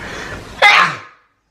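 A person sneezes once, close and loud, a sharp burst that trails off over half a second into silence after a short stretch of low background noise.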